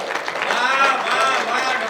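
Audience clapping at a Hindi poetry recital, a steady wash of applause filling the hall for the full stretch, fairly loud and even with no break.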